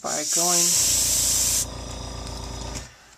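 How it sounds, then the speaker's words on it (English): An airbrush sprays paint onto a holly die cut at 30 to 60 psi, giving a loud, steady close hiss that drops in strength partway through while a low motor-like hum continues underneath. "as you work the airbrush, pressure goes down to about 30"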